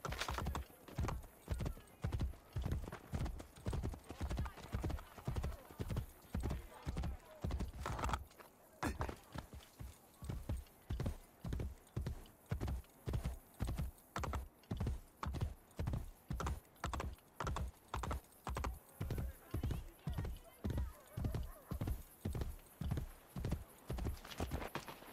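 Horse hooves galloping in the video game Assassin's Creed Brotherhood, a steady rapid clip-clop of loud, close, evenly spaced beats continuing throughout, with a brief pause partway through.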